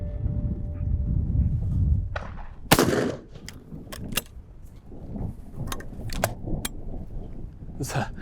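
Distant shotgun shots on a mixed-bag shooting day, sharp cracks spaced irregularly across a windy outdoor scene, mixed with nearby clicks and handling noise.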